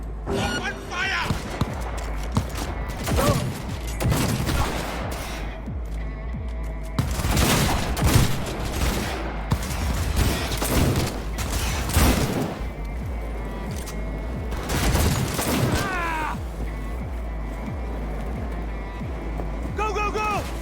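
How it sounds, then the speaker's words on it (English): Gunfire in the open-world game Cyberpunk 2077, heavy bursts of automatic shots and sharp cracks coming in waves over about twenty seconds, loud and close, with some voices mixed in. "Open fire!"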